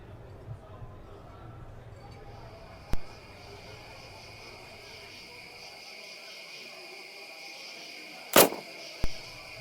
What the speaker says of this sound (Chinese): 哪来的枪声啊？